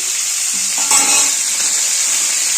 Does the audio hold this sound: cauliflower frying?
yes